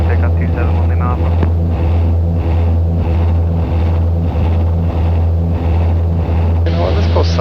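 A Piper Aztec, just back from having all its fuel bladders replaced, drones loudly and steadily in flight, its engine thrum forming a constant low, even hum with no breaks for the whole stretch.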